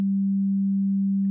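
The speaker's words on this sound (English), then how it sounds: "we have a very simple sine wave." A pure, steady sine tone from the Dexed FM synthesizer holds at one pitch without change, clean and unbroken from start to finish.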